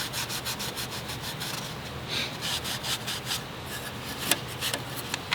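Steady hand scuffing and rasping across the cylinder head surface of a VW engine, cleaning the mating face around the cam area, with repeated rhythmic strokes, close and alone.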